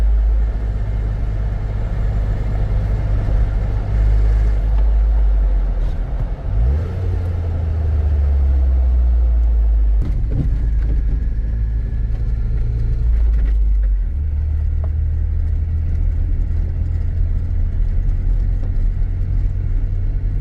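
A 2007 Jeep Wrangler X being driven, with a steady loud low engine rumble from inside the cabin that dips and rises as it shifts gears, with no speech.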